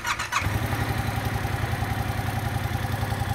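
A Yamaha MT-07 motorcycle engine catches after a short starter whir and settles into a steady, pulsing idle, loud and close, with no voices.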